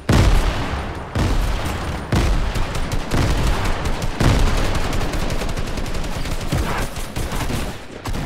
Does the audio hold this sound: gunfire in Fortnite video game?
yes